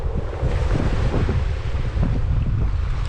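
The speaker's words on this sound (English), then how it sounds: "you can check to see which way the wind's blowing" Steady, loud wind buffeting the microphone throughout, with a constant low roar and gusty rumbles, on the shore of the Bristol Channel.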